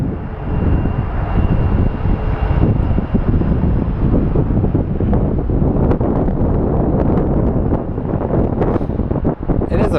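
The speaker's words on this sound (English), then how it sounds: "A bit windy today" Strong wind buffeting the microphone at Phoenix Sky Harbor International Airport, a loud continuous rumbling roar with a faint aircraft engine drone underneath.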